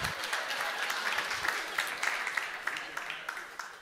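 A church congregation bursts into steady applause, many hands clapping together in a dense, even wash that holds for several seconds without a break.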